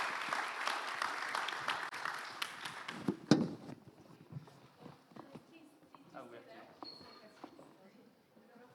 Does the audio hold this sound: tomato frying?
no